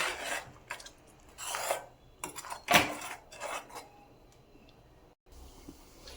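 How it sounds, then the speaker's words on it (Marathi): Masala being sautéed in oil in a pan for paneer masala, with repeated rasping scrapes of a spatula against the pan in uneven strokes over a faint sizzle, close up. "आता हा मसाला तेल सुटेपर्यंत आपण छानपैकी परतून घेऊया"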